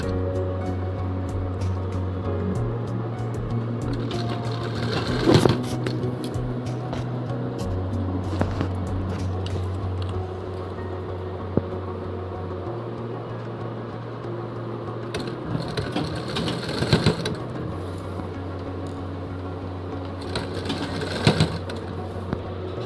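A sewing machine runs in long steady stretches, stopping and restarting several times, as it stitches a frill onto a child's frock, loud and close with occasional handling clatter.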